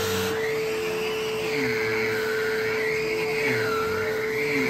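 An Aerus Lux Legacy vacuum cleaner attachment with its own separate motor runs continuously, giving a steady close drone with a bright whine that slowly rises and falls in pitch, with no talking over it.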